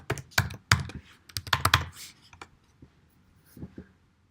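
Keys clatter on a computer keyboard in quick bursts of typing, close and clear, tapering into a few scattered keystrokes, with a faint voice underneath.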